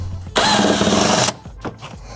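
A power tool spinning out one of the 10mm bolts holding the fuse box in a Toyota 4Runner, a single loud close whirring burst lasting about a second, followed by faint clicks and handling noises.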